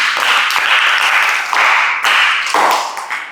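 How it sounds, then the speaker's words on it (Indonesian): A group claps for participants at a football training session, with bursts of applause and tapping that swell and fade in short waves over a few seconds, fairly close and loud. "Tepuk tangan dulu buat kalian."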